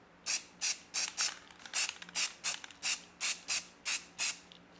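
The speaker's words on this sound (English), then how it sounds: "I've got to go back first and just spray some primer over these edges." Short hissing bursts of an aerosol primer spray can coating the edges of a metal sign, about a dozen in a steady rhythm, close and clear with quiet pauses between.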